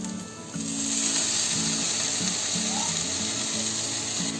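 Vegetables sizzle steadily in a hot pan as black soy sauce goes in, a loud continuous frying hiss with a low rhythmic knocking underneath and no talk.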